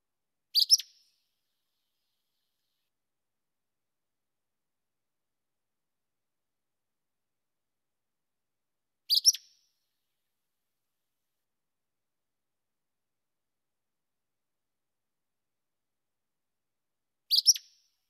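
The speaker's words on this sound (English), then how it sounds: "The song, Call of the Acadian, sounds like an emphatic issue" Three sharp, high bird calls of an Acadian flycatcher, each a quick emphatic burst, spaced far apart with silence between them.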